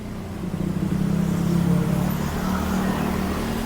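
A Ford Mustang sports car on a Thai street, its engine giving a steady, loud, low rumble that swells slightly as it passes close by, with no talk over it.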